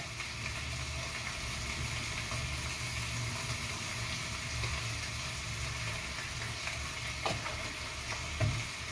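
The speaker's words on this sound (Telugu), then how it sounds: "చికెన్కి కారం ఉప్పు కలిసేంత వరకు అయితే కలుపుకోండి" Chicken with chilli powder and salt stirred in a hot pan for a curry: a steady frying sizzle runs throughout, with a few scraping spoon strokes standing out near the end.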